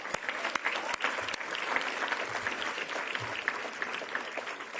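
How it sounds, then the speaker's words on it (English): A big round of applause rises from the audience at the Braille Challenge finals award ceremony for the sponsors, steady clapping with a few sharp individual claps standing out near the front. "Let's give them a big round of applause"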